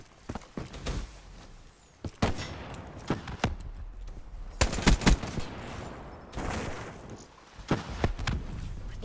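Razorback submachine gun shots from Call of Duty: Black Ops III gameplay ring out in scattered short bursts, close and sharp, with quiet gaps between them.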